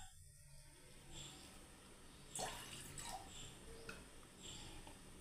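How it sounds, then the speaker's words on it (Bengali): Water is poured from a small vessel into cashew nut paste, a soft, faint trickle and splash running continuously with a few brighter drips near the middle. "একটু জল দিয়ে নিচ্ছি"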